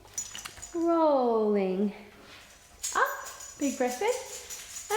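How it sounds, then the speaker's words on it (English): A pet dog whines and whimpers in a long rising-falling cry, then gives a few shorter whimpers while an instructor leads a beginner Pilates class and talks over them. "So my dog has just decided to join me for the very end of class."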